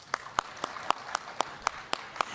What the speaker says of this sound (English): If you have to be here, clap it up.